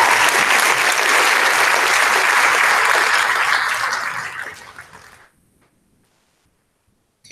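Loud, sustained applause from a school ceremony audience honouring middle school students, steady for about four seconds before tapering off and stopping, leaving near silence.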